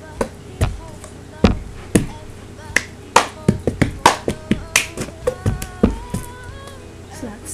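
Cup song rhythm performed on a tabletop: sharp hand claps mixed with a plastic cup being flipped and struck, a brisk repeating pattern of close percussive hits, with a voice speaking faintly in the background.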